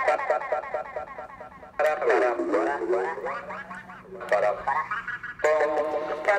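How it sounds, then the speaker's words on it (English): A sound bending synth repeats garbled, voice-like warbling phrases with a shortened echo, the tails cutting off quicker between bursts, loud and close. "Now if you turn this, the echo is shorter."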